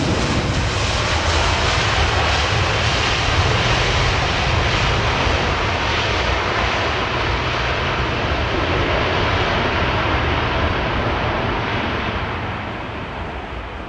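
Loud, sustained roar of an airliner's engines as it touches down on runway 27R, filling the whole span before easing off slightly near the end, with broadband rumble and no voices.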